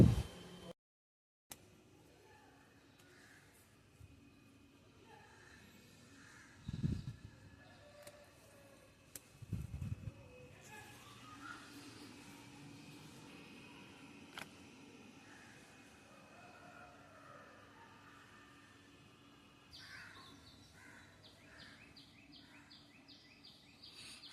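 Morning birdsong over a terrace garden: faint, distant chirps and calls scattered through a quiet outdoor hush, with a few low thumps, and a more rapid, patterned twittering toward the end.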